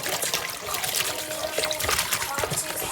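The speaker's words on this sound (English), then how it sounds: "I'm going to add some water because you got to get these oxtails clean." Water pours and splashes onto raw oxtails in a bowl while they are rinsed, an uneven trickle with wet spatters, close and fairly loud, with talking over it.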